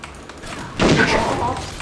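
Rapid gunfire in Free Fire breaks out after a short lull, a dense, loud rattle of shots lasting about a second before trailing off.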